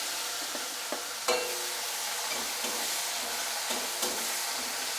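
Chopped onion fries over medium heat in a pan for a vegetarian aloo dum, with a steady close hiss of sizzling oil and occasional sharp clicks from a utensil stirring against the pan.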